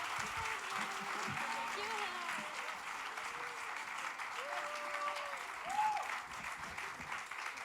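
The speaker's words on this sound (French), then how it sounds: "On les applaudit fort." Steady applause from a concert audience fills the room, fairly faint and even, with a few murmured voices and whoops mixed in.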